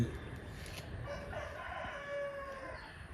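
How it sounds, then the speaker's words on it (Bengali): A rooster crows once at moderate distance, its drawn-out call rising over quiet outdoor background noise. "মোরগ ডাকছে"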